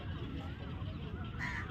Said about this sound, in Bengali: প্রচুর পাখি ওখানে, প্রচুর পাখি।